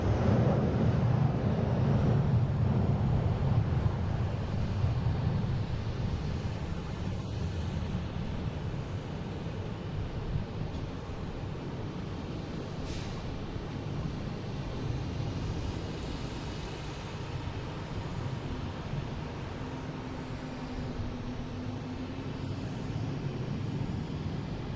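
An American Airlines Airbus A321 jet at Boston Logan airport gives off a steady broad engine roar, loudest at the start and easing to a sustained rumble with wind noise.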